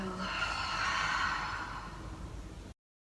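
A single deep, slow exhale during a guided relaxation session, a soft, breathy rush of air that fades gradually and then cuts to silence, close and quiet with no talk over it.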